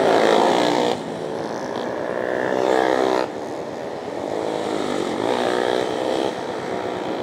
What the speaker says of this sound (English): that guy's on a Ninja 250, I'm fairly certain